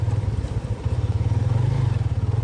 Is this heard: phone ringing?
no